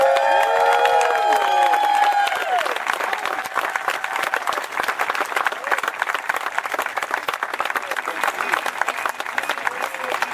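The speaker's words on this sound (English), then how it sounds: "big round of applause for Mr. and Mrs. Brian Wray" Wedding guests in New York applaud and cheer right after the couple is pronounced husband and wife, with whoops and shouts opening over loud, sustained clapping that carries on steadily.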